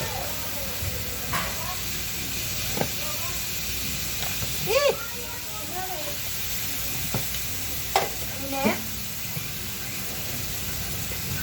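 Bottle gourd and chicken sizzle in a pan, with a constant frying hiss broken by scraping stirs and clinks of the utensil, and brief voices in the background.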